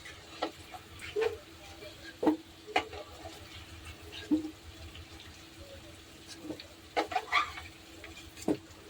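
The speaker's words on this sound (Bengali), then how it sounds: "আলুটা প্রায় ভাজা ভাজা হয়ে গেছে।" Potato pieces shallow-fried in a pan of oil, cooked lightly rather than crisp, give a close, low sizzle broken by irregular sharp scrapes and clicks of stirring.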